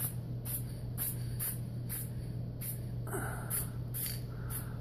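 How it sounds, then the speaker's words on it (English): An aerosol spray paint can lays a light coat over a car's paintwork in about ten short hissing bursts, spaced roughly every half second and heard close against a steady low hum. "I'm just putting real light spritz over the main area"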